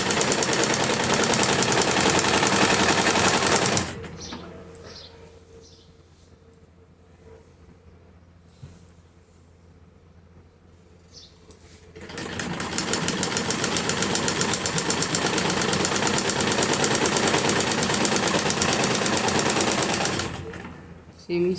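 Electric sewing machine stitching cloth for a salwar, a loud steady rapid needle clatter that stops for several seconds, with a quiet voice speaking in the gap, then resumes just as loud.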